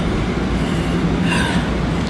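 A Long Island Rail Road Main Line train rolls past close and loud, a continuous heavy rumble with a brief high wheel squeal partway through and no voices.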